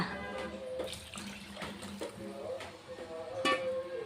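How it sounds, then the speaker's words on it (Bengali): Water runs and splashes into a pot of fish curry with gathi kachu taro, a steady pouring wash with small clinks of utensils close by. "এখন জল দিয়ে দিলাম আর কচু তো বন্ধুরা"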